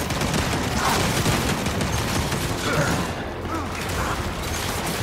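Turret gunfire in Gears 5 sounds as a dense, continuous rattle of rapid shots with clanking mechanical noise, loud and close, and it barely changes across the whole stretch.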